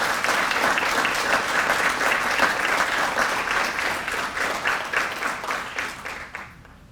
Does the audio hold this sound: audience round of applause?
yes